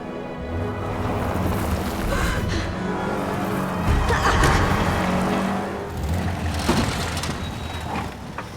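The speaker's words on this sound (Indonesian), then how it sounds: "para polisi itu mengemudikan mobil dengan ugal-ugalan agar Rafael semakin kesakitan" Car engine and tyre noise from a police car driven recklessly in a film, with a steady loud drive broken by thuds and crunching knocks of a rough, jolting ride, without any talk.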